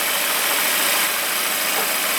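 A Chevrolet Malibu with an intake rocker arm solenoid fault (codes P2645/P2646) idles close by, a steady, unbroken engine hum with dense low rumble and no talk.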